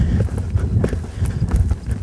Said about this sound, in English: So let's say your horse canters like that.